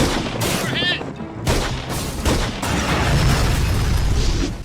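Pistol gunfire in a Steven Seagal action movie shootout, loud close shots and heavy booming bursts packed tightly together, with a short whine-like sound early on.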